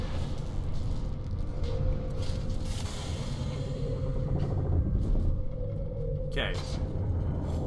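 A machine powers up in the HOB video game: a steady low rumble carries a sustained hum, with a brief rising whine near the end, while a voice speaks briefly over it.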